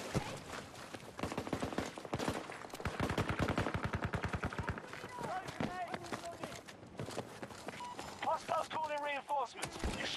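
Gunfire in the video game Battlefield 2042, with rapid bursts of automatic shots and dense machine-gun volleys mixed with footsteps and game effects, while voices shout over the action.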